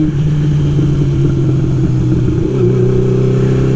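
A Honda CB 750 café racer motorcycle engine revs with a steady, loud low rumble that rises slightly in pitch near the end, heard up close with no talking.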